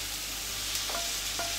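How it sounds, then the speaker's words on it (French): Carrots sautéing in a pan, giving a soft, steady sizzle with a couple of brief stirring scrapes. "Pendant ce temps-là, nous allons cuire les carottes."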